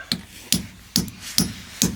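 Hammer blows ring out five times at a steady pace, each a sharp close strike with a bright ring, nailing boards up a wall during a barn renovation.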